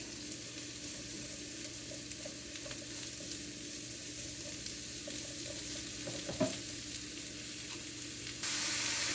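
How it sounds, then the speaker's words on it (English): Mushrooms sizzle steadily in a pan for a chicken quiche, with soft intermittent clicks and scrapes of stirring and a brief louder knock near the end, heard up close without talk. "And I'm going to stir this in here, and we are going to let the mushrooms cook for a little bit."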